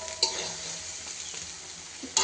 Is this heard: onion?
yes